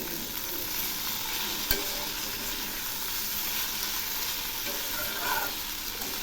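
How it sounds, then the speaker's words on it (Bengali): Fish curry with split ginger and green chilli being stirred in a pan: a quiet, steady sizzle and hiss with soft stirring movements and one brief clack, heard close up without speech. "আবারও একটু নেড়ে দিচ্ছি"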